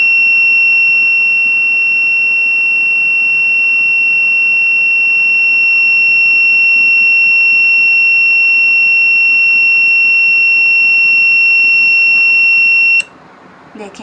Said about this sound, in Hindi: जैसे मोशन किया साथ ये बज़र हमारा ऑन हो गया